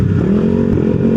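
A big bike motorcycle engine runs loud and close, with a steady low throb and a slight rising pitch as it passes, no voices over it.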